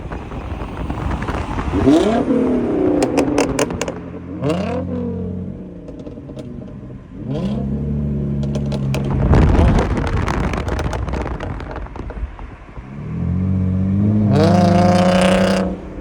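Cars rev hard at a crowded car meet before racing, engines rising and falling in repeated loud bursts with wind buffeting the microphone, no talking.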